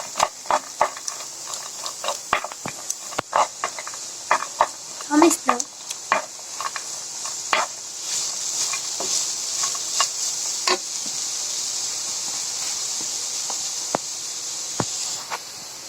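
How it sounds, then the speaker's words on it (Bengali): Raisins and nuts fry in ghee with a continuous bright sizzle, punctuated by repeated sharp clicks and scrapes of stirring against the pan that settle into a steadier hiss toward the end. "আর এখন আমি কিশমিশ বাদামগুলো এই ঘির ভিতরে ভেজে নেব।"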